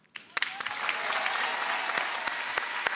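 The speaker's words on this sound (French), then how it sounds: "Applaudissements pour Sohan, s'il vous plaît." Audience applause for Sohan at an evening show, a few sharp early claps swelling into steady, sustained clapping with scattered louder hand strikes throughout.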